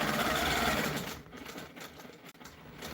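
A sewing machine quilting half-inch crosshatch stitches along a continuous border runs steadily and close. Its motor whir is loud at first and then eases into a quieter, uneven stitching rhythm.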